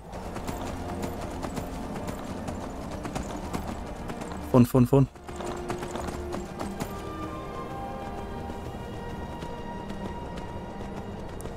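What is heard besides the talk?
horse galloping hooves in video game Skyrim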